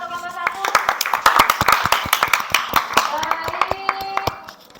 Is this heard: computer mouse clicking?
no